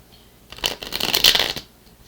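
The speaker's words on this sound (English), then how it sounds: "I ask for your patience while I shuffle the clarifying cards." A deck of cards being shuffled, a quick riffling burst lasting about a second after a brief quiet start, then quiet again.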